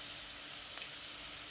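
Carrots sizzle in a hot pan while being stirred, a steady close hiss of frying oil with no one talking.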